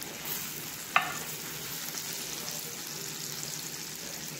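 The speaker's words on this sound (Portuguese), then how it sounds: "Agora vamos mexer e desmanchar esse queijo." Baked spiral pasta with mozzarella is stirred in a hot dish to melt the cheese, a soft continuous sizzle with one sharp utensil clink near the start and faint scraping after.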